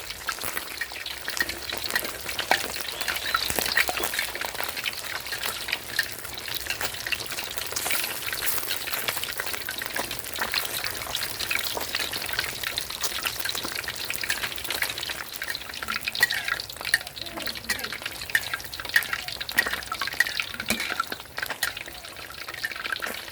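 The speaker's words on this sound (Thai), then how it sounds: "พอเราทอดสักพักนะครับ ด้านล่างของปลา ของเราก็ เหลืองแล้วแบบนี้เราก็ค่อยๆกลับได้เลยนะครับ" Snakehead fish frying in a pan of hot oil, with oil spooned over it, gives a steady, dense sizzle and crackle that runs unbroken throughout with no voices.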